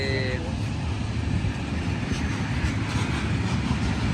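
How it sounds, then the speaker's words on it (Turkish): A train rumbles past close by, a continuous heavy roar of wheels and cars, with a brief whistle-like tone at the start. "Trenimiz geçti arkadaşlar."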